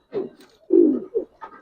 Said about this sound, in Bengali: দুটোটা একবারে মুসালদম কবুতর